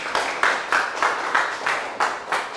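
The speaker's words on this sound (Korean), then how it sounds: "큰 박수 부탁드립니다" Steady rhythmic clapping from a seminar audience welcoming a US-qualified foreign lawyer from a Korean law firm to present on EU and US AI regulation, evenly spaced sharp bursts roughly three per second, moderately loud with no talk.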